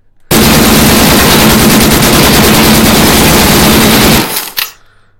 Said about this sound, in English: I'm going to shoot at this guy